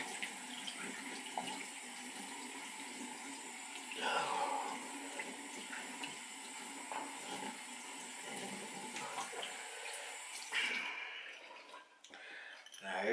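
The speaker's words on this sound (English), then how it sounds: "Wash my face and stuff." A bathroom tap runs steadily while someone washes their face at the sink, with splashes and shifts in the water flow, fairly quiet and close, as a person talks over it.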